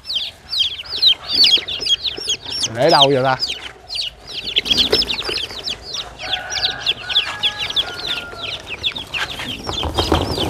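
Chickens cluck busily and continuously nearby, with a brief rooster-like call partway through and a few words spoken over the flock.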